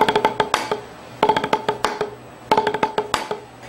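A snare drum plays a rapid repeating pattern of loud accents and soft ghost notes, three phrases in a row, crisp and close.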